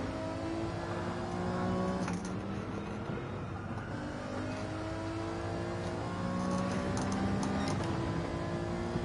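Alfa Romeo V6 engine in the racing game Gran Turismo 7, a steady droning whir with repeatedly rising and falling pitch as it revs through gears, heard continuously without talk.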